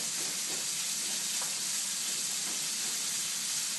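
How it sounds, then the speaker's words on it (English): Pancetta frying in olive oil in a pan, a steady bright hiss and crackle, close and continuous throughout, with no talking. "I'm just heating the regular olive oil here in the pan. I'm going to let the pancetta work"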